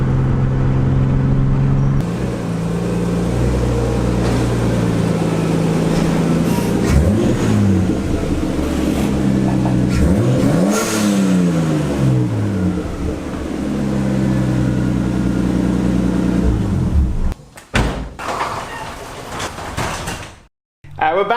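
A Nissan 240SX S14 with an RB25 engine and an HKS blow-off valve accelerates under light boost, its engine note rising and falling through several revs, with a voice talking over it. The sound drops out sharply near the end.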